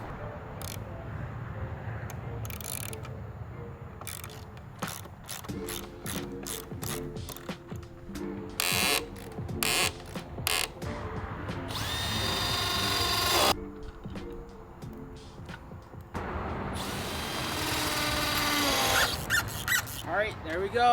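Power tool driving 4 3/4-inch lag screws through a short beam into a post assembly on a 12x16 Yardistry wooden gazebo, several loud whirring bursts with pauses between, mixed with clicks and talk.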